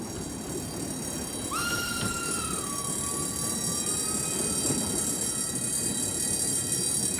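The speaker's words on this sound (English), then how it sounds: "Having obtained visas for Germany, Gurdjieff leaves Turkey on a freight train with some of his followers." A freight train rolls along the rails in a steady, continuous rumble, with a drawn-out wheel squeal rising briefly and then holding at a lower pitch for several seconds.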